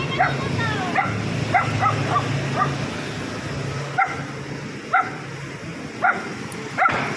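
Puppies yip and bark in short, scattered bursts over a steady murmur of background noise, with occasional voices nearby.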